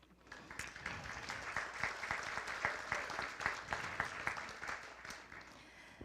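An audience at the 2017 Millbrae Man, Woman & Student of the Year event breaks into applause, with individual claps standing out in a steady, moderately loud round that carries on for several seconds.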